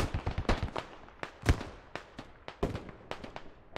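Hell cannon rounds explode in the Squad video game as a scattered series of sharp cracks and thumps, some close and punchy, others fainter in the distance.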